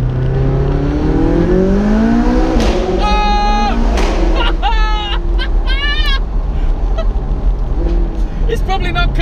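A McLaren 675LT engine revs hard inside a small tunnel, loud and echoing, with rising and falling engine tones and rapid popping bursts over a constant heavy rumble.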